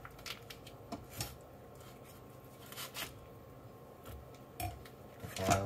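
A knife slices through partly frozen flank steak beside a kitchen sink, giving soft, intermittent scraping and knocking against the cutting surface, with a few sharper clicks near the end and no voices.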